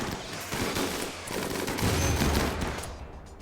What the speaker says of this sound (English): Was that a mortar hit?